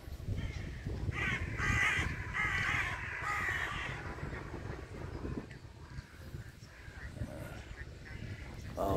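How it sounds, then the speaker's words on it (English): Several birds caw harshly and repeatedly, some close and some farther off, over a low outdoor rumble. "There's the blackbirds there."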